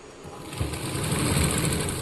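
A sewing machine runs a single round of stitching along the narrow elastic waistband of children's pants, giving a steady continuous whir close by, with no one talking.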